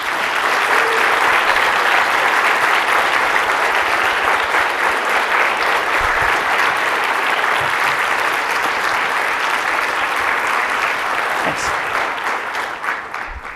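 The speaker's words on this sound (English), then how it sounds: "Please, let's give them a round of applause." A crowd at a city's State of the City address gives a long, loud, sustained round of applause that carries on evenly before tapering at the very end.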